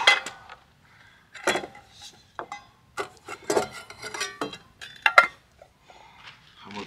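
Pots and pans clink and clatter in short bursts of metal knocks and scrapes, close by, with brief quiet gaps between, while setting up a frying pan at a truck campsite.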